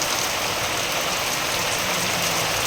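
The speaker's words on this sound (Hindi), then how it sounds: "मेरे यहाँ बारिश हो रहा है" Rain comes down as a dense, even hiss, steady and unbroken for the whole stretch, with no voices over it.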